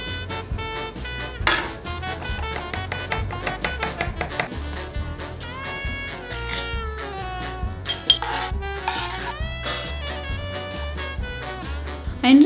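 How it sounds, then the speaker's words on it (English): A spoon clinks and taps against glass canning jars as beer mustard is scooped in, with a run of light metallic knocks and scrapes over quiet background hum. "I'm just going to use a spoon for this, honestly, because I don't think a ladle is necessary."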